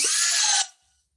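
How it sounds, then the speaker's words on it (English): A power drill bores a hole into a log for outdoor mushroom growing, giving a loud, steady high whine for just over half a second before cutting off and spinning down. "So you drill down,"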